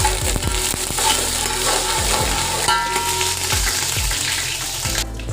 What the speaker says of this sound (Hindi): इसमें मैं अदरक लहसुन का पेस्ट वो डाल रही हूँ